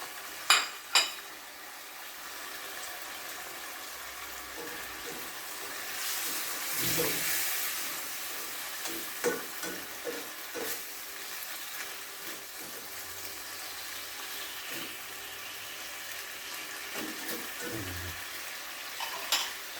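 Spring onions and salted fish stir-fry in a pan, giving a soft steady sizzle with occasional scraping stirs and utensil clicks, faint and close, with no talk.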